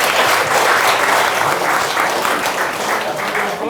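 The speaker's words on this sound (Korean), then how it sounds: "여러분 큰 박수 부탁드립니다." An audience at a talk show at an art fair applauds loudly and continuously, a dense, steady wash of many hands clapping together throughout.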